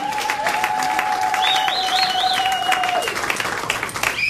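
A church congregation applauding during a worship service, with sustained clapping mixed with crowd noise and a long whistled or sung tone drifting above it.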